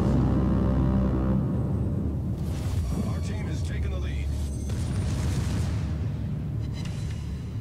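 Explosions rumble and boom amid continuous battle noise as a warship's guns are destroyed in World of Warships, a dense, sustained low roar with bursts on top, moderately loud.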